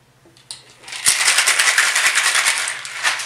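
A cocktail shaker rattled hard and fast, ice clattering rhythmically inside, close and loud after a short pause.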